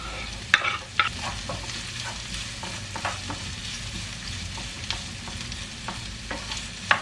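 Onion and green pepper fry with minced meat in a pan, a soft steady sizzle broken by sharp scrapes and clacks of stirring, fairly close and quiet.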